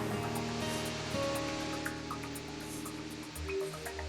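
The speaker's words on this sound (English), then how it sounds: "A vertical waterfall almost 50 meters high." A nearly 50-metre vertical waterfall in a canyon on Reunion Island pours with a steady, dense roar that stays constant throughout, with no voices.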